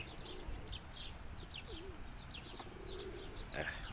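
Pigeons coo softly outdoors in Spain, with low warbling calls and scattered chirps over a steady background hum, fairly faint and without speech.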